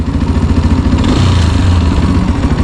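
A motorcycle engine runs close and loud with a steady, throbbing low rumble while the rider works the clutch and drops a gear, the pitch easing slightly mid-way.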